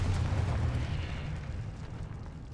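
A Confringo fire spell explodes in Hogwarts Legacy, a loud booming blast with a deep rumbling low end that stays full and slowly fades over a couple of seconds.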